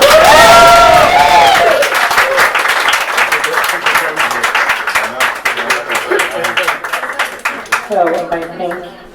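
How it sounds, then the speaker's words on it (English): A poetry-reading audience applauds for the poet, a dense wash of many hands clapping with a few whoops near the start, steady through most of the stretch and thinning into scattered claps at the end. "one more round of applause for Seifer"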